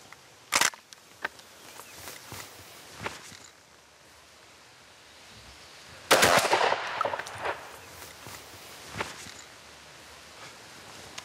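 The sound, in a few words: smoothbore shotgun firing a wad cartridge at 25 metres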